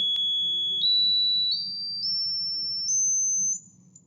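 A pure electronic sine tone climbs upward in steady steps past 2000 hertz, each pitch held briefly before jumping higher, over a faint low background hum.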